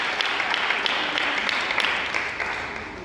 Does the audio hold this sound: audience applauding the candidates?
yes